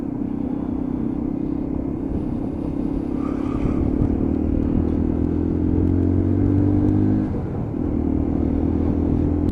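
A Lexmoto Assault motorcycle being ridden, its engine giving a steady, loud close-up rumble that holds through a gear change near the end.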